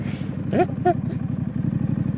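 A Street Scrambler motorcycle rides off-road over loose flint, its engine pulsing in a steady close chug for the whole stretch, with a brief whooping voice cutting in twice near the start.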